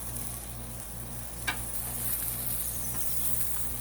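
Seafood frying on a griddle at a Fourth of July cookout, a steady hiss of sizzling with a brief sharp crackle midway, close and continuous with no talking.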